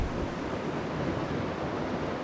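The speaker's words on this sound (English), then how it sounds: "Listen to that waterfall." A waterfall at night near a parked Sherp all-terrain vehicle with its engine off, heard as a steady, dense rushing roar of falling water with no pauses, alone and fairly close.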